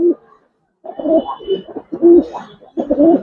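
Large Giribaz pigeons, a moulting pair, cooing in short repeated bursts close by, with a brief pause near the start and a faint high tone above.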